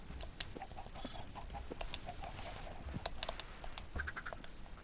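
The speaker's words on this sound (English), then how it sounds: "I'll keep my chickens here." Minecraft chickens clucking and squawking in short scattered bursts over a busy game background, moderately close, with no speech.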